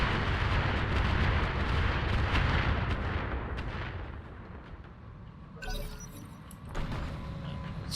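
Heavy weapons and missiles firing in a combat video game, a dense barrage of booming blasts and explosions that thins out, then a couple of sharp louder bursts near the end.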